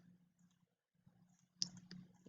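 A single sharp computer mouse click sounds close but faint over a low electrical hum, followed by a few softer ticks in an otherwise quiet room.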